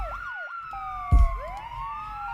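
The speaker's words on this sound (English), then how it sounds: "I've got a police siren." A police siren in a music beat track wails and sweeps up and down in pitch, with a short low thump in the middle, steady and moderately loud, no speech.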